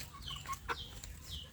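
Free-range village chickens in a netted run cluck nearby, with a few short calls and soft clucks in a quiet morning setting and no talk.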